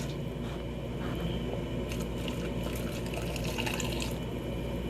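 Pickle brine pours in a steady, continuous stream into a glass canning jar, a close, even liquid gurgle and splash throughout with no speech.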